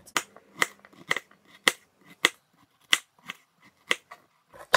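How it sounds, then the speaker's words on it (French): A kitchen knife chops through a carrot with a series of crisp, evenly spaced cutting knocks on a board, close and clear with no talking. "je vais juste couper ma carotte"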